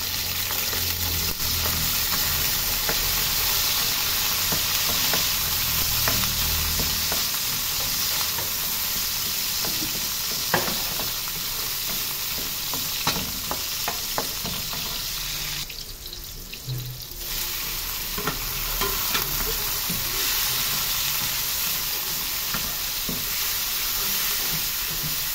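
Vegetables sauté in a hot pan with a constant loud sizzle and occasional scraping stirs, with a brief dip partway through and no talking.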